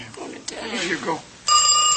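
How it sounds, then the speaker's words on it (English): A telephone bell rings loudly in a steady, bright burst during the last half second, following a stretch of indoor talk and movement. "Mrs. Scott, I hope the telephone hasn't woken Julia."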